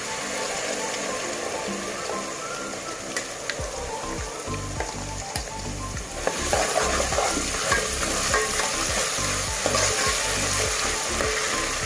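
Masala paste frying in a pan for an Agri-style stuffed crab curry gives a loud, continuous sizzle. Rhythmic stirring scrapes grow busier partway through.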